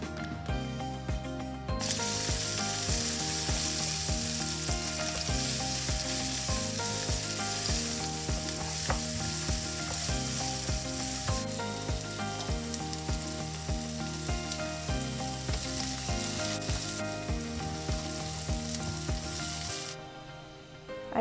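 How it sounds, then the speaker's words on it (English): Onions sautéing in garlic butter in a pan give a steady, close, dense sizzle that starts abruptly and holds at an even level for about twenty seconds, with faint stirring, then drops off at the end. "I left a little bit of the garlic with butter in my pan. That way I can saute my onions in it."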